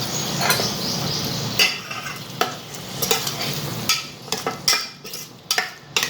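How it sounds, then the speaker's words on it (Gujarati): Street-style potato curry (bataka nu shaak) is stirred in a pan. Irregular scrapes and metallic clinks of the spoon against the pan come over a low sizzle, loud and close, with no talking. "હવે આપણે આને હલાવી લઈશું."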